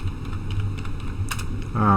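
Light, irregular keystrokes on a computer keyboard, typing variable declarations, tap softly under a steady background hum before a voice begins at the end.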